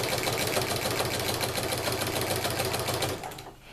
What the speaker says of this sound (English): I'm going to start sewing again at the tip of where my